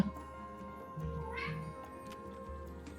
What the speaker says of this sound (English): then you can't hear Aster meow at me